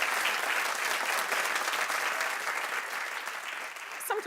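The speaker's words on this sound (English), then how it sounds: "Clap if you know what I'm talking about." Studio audience at a daytime talk show clapping together, a dense, even burst of applause that holds steady and fades slightly toward the end.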